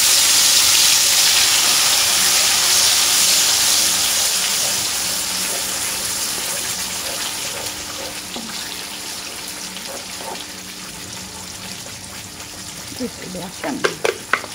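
Loud sizzling and hissing from spices sautéing in a hot pan for stingray asam pedas, fading a little over time, with metallic scraping and clinks near the end.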